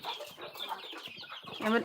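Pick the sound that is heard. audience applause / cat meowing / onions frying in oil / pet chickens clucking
pet chickens clucking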